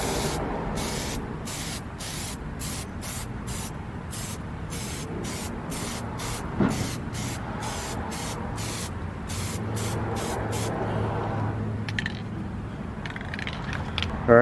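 An aerosol can of SEM Color Coat sprays paint onto plastic car trim in a quick series of short hissing bursts close by, followed by quieter handling and clicks.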